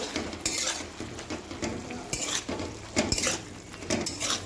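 Malabar spinach stir-fry with a sprinkle of cumin powder stirred in a pan, the spoon scraping and clinking against the metal in irregular strokes over a soft steady sizzle, close and moderately loud.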